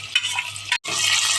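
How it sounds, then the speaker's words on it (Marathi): Onions being sautéed in a pot with whole spices for Marathi-style chicken biryani give a loud, close, continuous sizzle with stirring clatter, broken by one brief pause, with no voices. "कांदा लाल होईपर्यंत परतायचा असतो"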